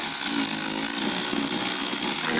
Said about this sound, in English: you can just put your bolts back in.